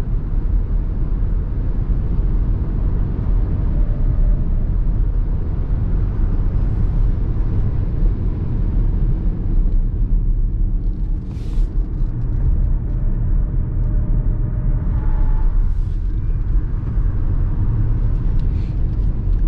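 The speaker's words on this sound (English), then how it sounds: "those are just a few quick track laps in the Ford Mustang Mach-E" A 2021 Ford Mustang Mach-E electric car lapping a track, heard from inside as a steady, loud broadband road and wind roar with a faint electric whine, no voices, continuous for the whole stretch.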